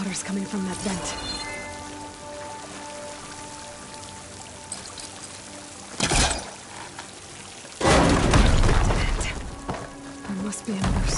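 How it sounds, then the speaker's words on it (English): Water gushing from a vent in Horizon Forbidden West, a rushing pour that swells loudly in two bursts over a steady game background. "Water's coming from that vent."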